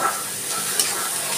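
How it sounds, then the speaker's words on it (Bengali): Onions sizzle steadily in a pan while being stirred, a soft, continuous frying hiss with a faint scrape near the middle and no voices. "আমি পেঁয়াজটা একটু লাল লাল করে ভেজে নেব।"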